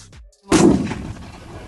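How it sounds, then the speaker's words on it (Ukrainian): A single heavy blast from a Turkish-made 60-mm Commando mortar erupts after a brief quiet, booming loudly and then rumbling away into a fading echo. "застріляти з міномета"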